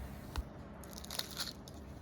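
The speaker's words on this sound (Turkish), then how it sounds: "Sesini duyduğunuz üzere çıtı çıtı çok lezzetli bir kurabiye hamuru oldu." Crisp, crunchy angel wing cookies crackle as they are broken and bitten up close, with a sharp snap followed by a few smaller crunching crackles, with no voices.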